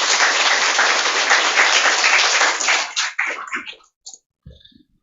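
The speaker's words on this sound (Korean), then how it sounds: "박수로 수고했다라고 격려를 하도록 하겠습니다." A church congregation breaks into dense, loud applause for those finishing a discipleship course, holding steady for nearly three seconds before thinning into scattered last claps and falling silent.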